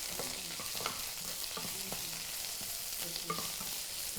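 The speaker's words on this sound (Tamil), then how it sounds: "எண்ணெய் ஊற்றினோடனே எண்ணெய் சூடானதும் கருவேப்பிலைக்கு அப்புறமா வந்து வறுத்த வேர்க்கடலை கொஞ்சம் தாராளமாக போட்டிருக்கேன்" Curry leaves and roasted peanuts fry and get stirred in hot oil, giving a steady close sizzle broken by soft scraping stir strokes, with no talking.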